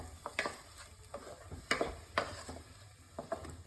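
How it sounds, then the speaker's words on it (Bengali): Spice paste being fried in oil for aloo dum: a steady low sizzle with repeated scraping and tapping of a spoon stirring in the pan, close and moderately loud, with no voices. "মশলাটা ততক্ষণ কষাবো যতক্ষণ না পর্যন্ত মশলাটা থেকে তেলটা বেরিয়ে আসবে।"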